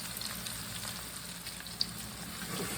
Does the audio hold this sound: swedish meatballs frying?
yes